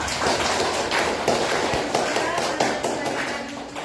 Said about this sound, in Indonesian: Tepuk tangan dulu buat kelompok Super Wings